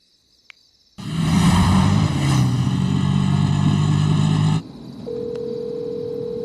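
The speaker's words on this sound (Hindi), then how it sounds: "इतनी रात में किसका फोन आ रहा है?" A phone rings late at night: a loud, tonal ringing pattern runs for about three and a half seconds, then cuts off abruptly, leaving a quieter steady hum. No one speaks.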